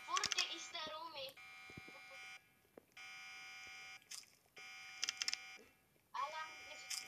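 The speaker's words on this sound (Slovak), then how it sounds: "Alarm is going off. Dead alarm." A repeated electronic alarm beeps in steady on-off pulses inside the Roblox game, with someone talking over parts of it.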